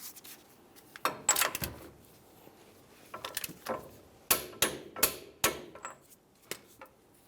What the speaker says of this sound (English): we can move along to torquing the axle nut to 185 foot-pounds.